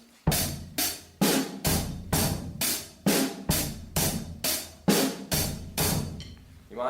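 A church drummer plays a simple, steady drum rhythm, about a dozen evenly spaced crisp hits with cymbal wash ringing after each, close and moderately loud with no talking.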